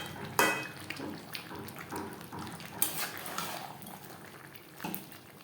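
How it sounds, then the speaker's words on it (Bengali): Fried potatoes being stirred into a simmering chicken curry in a pan over high-to-medium flame, with irregular scrapes and clinks of a utensil against the metal over a soft bubbling sizzle, close and without speech. "চিকেনের সাথে আলু বেশ ভালো করে মিক্সড করে দেবো।"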